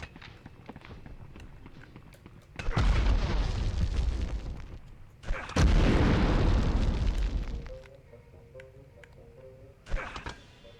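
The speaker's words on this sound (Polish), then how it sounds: "Obrzucimy ich tam trochę granatami" Grenade blasts in the Medal of Honor first-person shooter: two long, loud roaring explosions, each rumbling for a few seconds, followed by quieter game sounds and a final short burst.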